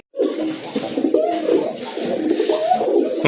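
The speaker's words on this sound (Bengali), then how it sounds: "কবুতরগুলো আপনাদেরকে দেখাই" Danish pigeons, including red ones, cooing in a group, with soft overlapping throaty coos and warbles that continue close and clear without a break.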